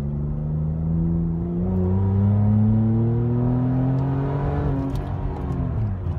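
A 2013 Ford Explorer engine with its muffler removed drones and revs with a deep, throaty, raw, unmuffled rumble, its pitch rising and falling steadily with no voices.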